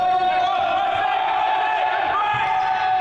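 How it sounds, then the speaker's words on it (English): A crowd in an indoor futsal hall during a Dorset match, loud sustained cheering and shouting with tonal chanting voices, a constant wall of noise that carries throughout. "Can you hear those cheering and shouting?"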